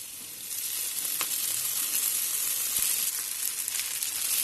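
Soaked sabudana sizzles and fries with onions and turmeric in a hot pan, a steady bright crackle with scattered sharper pops, close and alone without talk.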